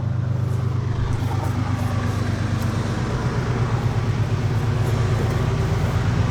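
Roadside traffic noise beside a classic car project parked along the road; a loud, continuous drone of passing vehicles with a steady low engine hum and a vehicle rumbling by, no voices.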